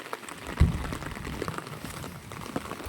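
Rain falls outdoors during a windy storm in the UK, a steady broadband wash of patter and gusty noise with one brief louder thump near the start and no voices.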